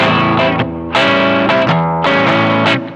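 Distorted electric guitar chords ring out openly, struck three times in a steady rhythm, each sustaining loudly before the next hit.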